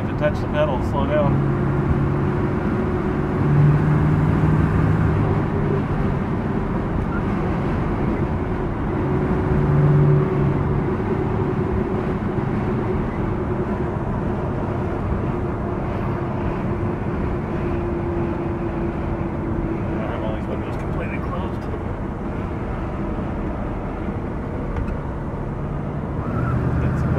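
Cabin sound of a 1963 Chevrolet Corvette Stingray split-window coupe cruising steadily, a continuous low engine drone with gentle rises in revs and road noise, heard from inside the car.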